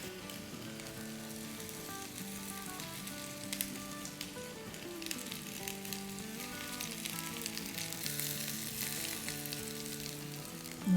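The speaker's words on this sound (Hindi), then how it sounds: "ये देखें किस तरह से ग्रिल हो रही है" An aloo seekh kebab sizzles and fries steadily in a hot pan, a soft continuous crackle with no voices, staying fairly quiet throughout.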